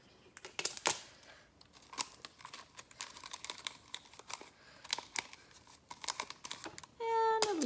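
Tape pulled and pressed over the end of a homemade maraca, a scatter of faint close crinkles and taps, ending in a brief squeaky stretch of tape being unrolled.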